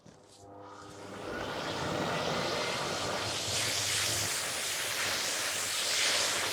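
A vacuum pulls air through a cyclone dust separator into a blue 40-litre container, its broadband roar swelling over the first two seconds and then holding loud and steady.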